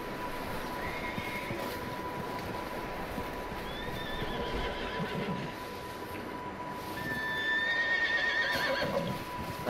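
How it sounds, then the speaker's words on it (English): Several horses in a barn in the video game Red Dead Redemption 2 whinny and neigh at intervals over a soft background hum, with a louder, longer whinny near the end. "Sounds like there's some horses in here."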